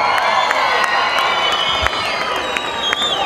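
Large outdoor crowd at a night-time village religious festival in Guimarães, Portugal, cheering, whooping and clapping loudly and continuously, with scattered shouts rising above the roar.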